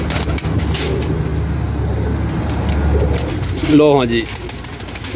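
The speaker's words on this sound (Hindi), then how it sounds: "ए वेखो कबूतर बड़ा बदमाश कबूतर है, कबूतर भी देखो माशाल्लाह" Pigeons, including Rampuri birds, coo and rustle in a loft or coop, with a few wing flaps, while someone speaks over them close by.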